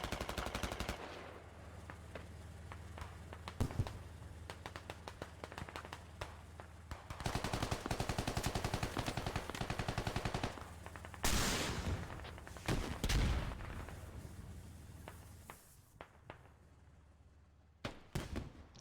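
Small-arms fire pinging off a tank in the Squad video game, rapid bursts of gunshots and metallic impacts in quick volleys, fairly faint overall with pauses between clusters.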